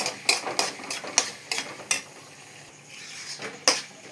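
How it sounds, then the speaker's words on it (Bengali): Spoon knocking against a pan while ghugni with tomato is stirred: a string of sharp metallic clinks and taps at an uneven pace, with a short pause before a last loud clink, close by and with no talking. "একটু নাড়াচাড়া করে নিলাম"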